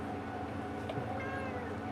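A cat meows once, faint and brief, over a steady low hum in an indoor room.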